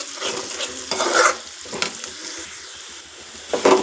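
Curry leaves stir-frying in hot oil for egg fried rice, sizzling bursts with spatula scrapes and stirring in uneven pulses, close and fairly loud.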